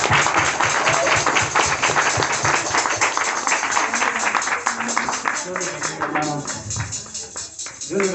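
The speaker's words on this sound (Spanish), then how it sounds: "Vamos a dar un aplauso al Rey de Reyes" A church congregation claps during a worship service, moderately loud applause with scattered voices mixed in, continuing unevenly across several seconds.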